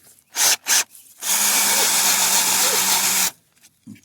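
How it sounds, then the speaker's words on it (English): A power drill fitted with a paddle bit bores into wood in one sustained two-second whirring, grinding run, preceded by two short bursts of the motor and followed by quieter handling noises. "I'm just using a paddle bit to drill my holes"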